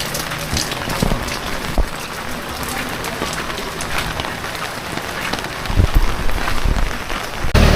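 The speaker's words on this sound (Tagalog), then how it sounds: "umuulan, malakas ang ulan" Steady heavy rain hisses and patters across surfaces at a market, dense and continuous, with a few louder knocks and a swell near the end.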